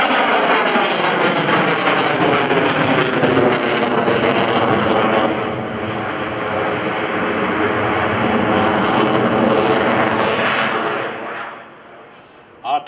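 A US Navy F/A-18C Hornet fighter jet performs a pitch rate manoeuvre at a Boston Portsmouth airshow, its engine roar loud and sustained for about eleven seconds before fading abruptly, with crowd or commentary noise mixed in.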